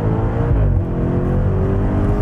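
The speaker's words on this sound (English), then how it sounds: "you just get to hear the exhaust a lot more, and it is a really good exhaust" Exhaust of a 2020 BMW M8 Convertible with a 4.4-liter twin-turbo V8 under acceleration, a loud, steady low rumble with rising harmonic tones, heard alone from inside the open-top car.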